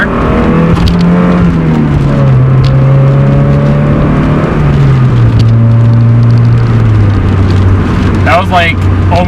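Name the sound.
Mazda Miata accelerating hard in first gear, engine revving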